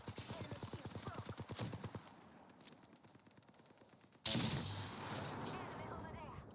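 Rapid gunfire in the video game Apex Legends: a fast burst of close shots in the first two seconds, quieter trailing pops, then a loud dense blast of noise. A voice is heard speaking alongside the shooting.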